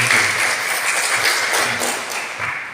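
Primary school pupils clap together in a classroom, a fairly loud, brief burst of applause with a few taps and thuds.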